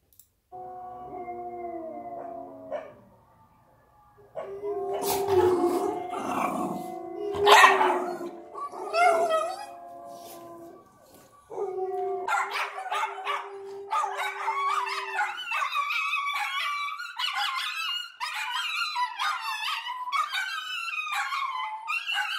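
Several dogs bark and howl together nearby, yelps and long wavering howls overlapping into a noisy, continuous chorus.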